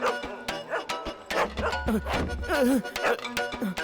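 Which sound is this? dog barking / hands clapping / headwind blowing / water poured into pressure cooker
dog barking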